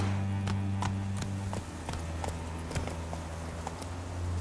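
Horse hooves clip-clop in The Witcher 3: Wild Hunt, a steady rhythmic series of sharp clops over a low droning background that slows slightly partway through.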